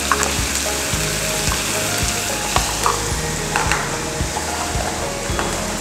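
Ginger and garlic paste, about one and a half tablespoons each, sizzling in a pan for a home-style Kerala chicken curry, a steady dense crackle with scattered louder pops and occasional stirring, no talk.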